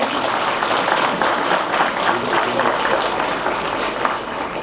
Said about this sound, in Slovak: Ešte jeden potlesk poprosím.